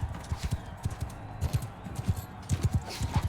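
Rhythmic hoof clip-clops of a galloping horse in the video game Mount and Blade Bannerlord, fairly close, in bursts with brief pauses, over a low ambient hum.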